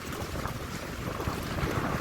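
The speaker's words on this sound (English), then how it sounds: "a very strong southwest wind" Strong southwest wind roaring over a Seawind 1000 catamaran sailing with two reefs in and a reefed headsail, a steady broadband rush of wind noise on the microphone mixed with water and hull sounds, continuous and fairly loud with no talking.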